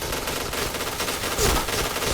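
Rapid automatic gunfire from a new-generation gun in an online shooter game, a dense, loud burst of shots rattling continuously for a couple of seconds without voices.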